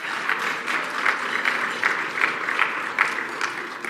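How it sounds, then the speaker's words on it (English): Conference audience applauding its airline sponsor at a business event: a dense, even wash of many hands clapping at moderate loudness, sustained throughout without voices. "one more round of applause for our airline sponsor"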